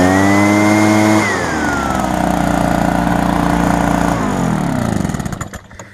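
A repaired Kawasaki backpack leaf blower running loud and close, its engine revving high, then dropping to a rough idle before it shuts off.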